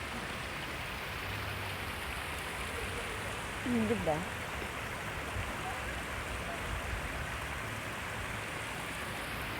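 Small stream of water flowing through a park in Shizuoka, Japan, a steady soft trickle and wash that runs continuously, with a person speaking briefly partway through.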